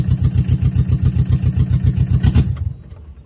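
A 2019 Tata Ace XL small diesel truck idles with a steady, loud chugging pulse, then the engine is switched off and cuts out abruptly, leaving near silence.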